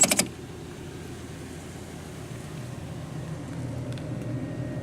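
A Pontiac Aztek with little rust idles quietly, a steady low engine hum running unbroken after a few brief clicks at the start.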